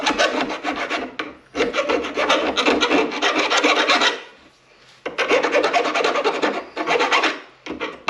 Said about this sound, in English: take a file,